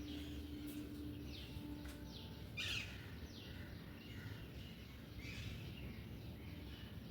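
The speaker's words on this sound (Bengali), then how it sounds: "পাখিদের আওয়াজ" Birds chirp on a rooftop on a quiet morning with empty streets. Their short, repeated calls sound faint and distant over a low hush.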